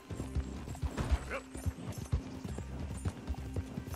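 Horse hooves clip-clopping in Red Dead Redemption 2, a steady near rhythm of hoofbeats at a walking gait, with a voice talking over them.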